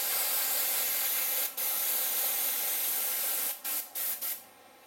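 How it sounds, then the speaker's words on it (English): An airbrush spraying black weathering paint onto a model locomotive gives a steady close hiss with a few short breaks near the end, and no one speaks. "So the final colour applied with the airbrush is the engine black."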